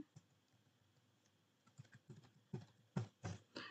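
Keystrokes on a computer keyboard during data entry, a few soft scattered taps early then a denser, louder run of typing toward the end, including what sounds like the enter key, close by with no talk.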